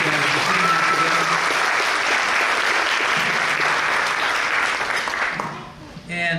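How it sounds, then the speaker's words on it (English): Loud, sustained applause from a large audience, a dense clapping roar that fades near the end. "Let's give that a round of applause again."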